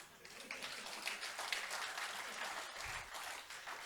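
Audience applause at a Hindi poetry recital, a kavi sammelan at a university, steady dense clapping from a crowd sustained for about four seconds, fairly distant and even in level.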